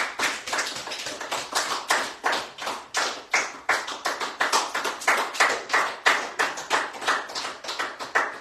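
A church congregation claps together in a steady, even rhythm, the repeated hand claps carrying on throughout without speech.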